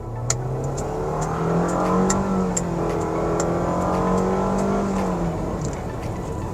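A 2023 Mitsubishi Outlander with a CVT gearbox accelerates hard under full throttle, its engine drone holding a steady, slowly rising pitch throughout, loud and continuous with no talk over it.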